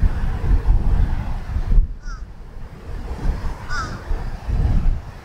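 Gusty wind buffets the microphone on a golf course, a steady low rumble that swells and eases over several seconds, with a couple of faint bird calls in the lulls.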